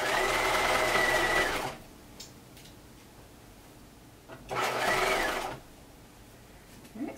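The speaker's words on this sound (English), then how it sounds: "I'm just gonna stitch across the entire skirt waist to get to the other end." A sewing machine stitches across the gathered waist of a vintage-style picnic skirt in two loud, close bursts of fast whirring separated by a quiet pause with small handling clicks.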